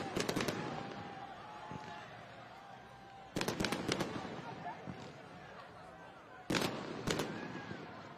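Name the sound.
fireworks display at a high school football game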